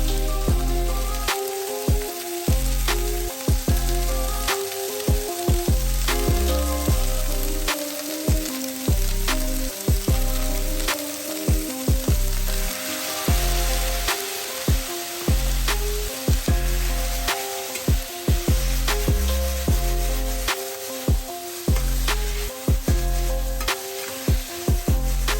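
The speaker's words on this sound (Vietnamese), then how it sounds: "vào xào sơ, rồi cho thêm 1 hoặc 2 muỗng canh sốt vào đảo đều, cho đến khi rau thấm vị là hoàn thành" Leafy vegetables being stir-fried with a homemade sauce in a hot pan, a steady loud sizzle broken by regular rhythmic tossing strokes, close and continuous with no voices.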